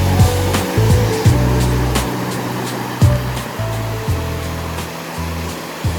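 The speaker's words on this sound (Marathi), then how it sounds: "लाटा बघा कशा येतात ते" Sea waves roll in and break at Chivla Beach in Malvan, a steady close roar of surf with a few sharper crashes and a low rumble running throughout, with no voices.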